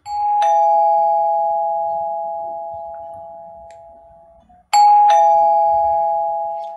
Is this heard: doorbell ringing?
yes